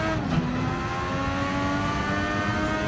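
A race car engine in the Gran Turismo 7 racing game holds a steady, loud drone with rising harmonic lines, sounding continuous and close throughout with no pauses.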